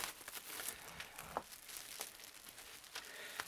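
Plastic wrap crinkles and rustles in quick, scattered bursts as it is trimmed off an electric guitar with small rounded scissors, close and fairly quiet, with no talking.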